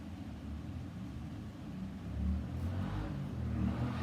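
Outdoors a loud car drives by, a low rumbling engine that grows gradually stronger toward the end, muffled as if heard from inside a room, with no one speaking.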